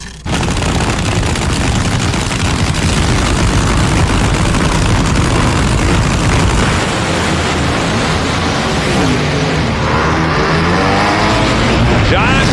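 John Force's nitro drag racing car roars through a record speed run at Norwalk Raceway Park in 1998, a loud, sustained broadband engine blast that stays intense throughout under a crowd or announcer wash.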